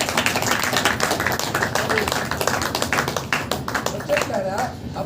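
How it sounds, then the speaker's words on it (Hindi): A congregation clapping hands at a Saturday power meeting in church, steady rhythmic claps mixed with a preacher's loud voice and crowd sounds throughout. "ताली बजा"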